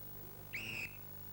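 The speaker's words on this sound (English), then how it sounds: "Ready, on the whistle." A referee's whistle gives one short, sharp blast to start an event at the 1996 World's Strongest Man contest in Mauritius, clear over a low, steady crowd hum.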